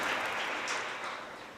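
Audience applause for a special lecture at an international conference event, a steady, dense clapping from a crowd that fades slightly toward the end, with no talking over it.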